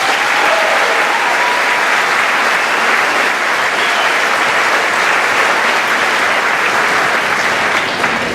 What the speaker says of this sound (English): I'd just like to give him just a round of applause for all his efforts